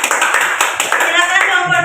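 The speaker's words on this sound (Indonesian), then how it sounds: "silahkan kita beri tepuk tangan untuk kelompok 2 yang sudah mempresentasikan hasil diskusinya." A classroom of students in a biology lesson claps for a presenting group, a short burst of brisk, close hand claps with a voice speaking over it.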